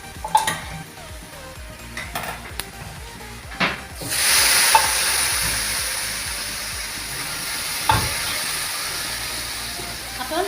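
Beef sautéing in a pan for Kerala beef roast: a few spoon knocks and scrapes, then a loud hiss of frying rising as the meat hits the hot pan and continuing as a steady sizzle with occasional stirring clatter.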